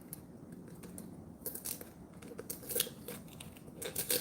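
Tape being peeled and pulled off the rims of stainless steel dog bowls, close-up crinkling and tearing bursts that grow sharper and more frequent toward the end, with no talking.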